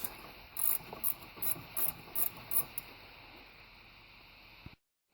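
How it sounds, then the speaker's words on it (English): Ratchet backing out the top strut bolts on a truck during a 2-inch front spacer lift install, giving several quick bursts of close, metallic clicking at a steady rhythm before falling quiet. "And then you can take out the top of the strut bolts."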